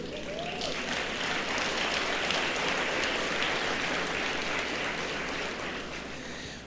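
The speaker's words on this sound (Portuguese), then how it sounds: "Uma salva de palmas para vocês." Church congregation clapping together in sustained, dense applause that stays loud and steady throughout, with a brief tonal cry near the start.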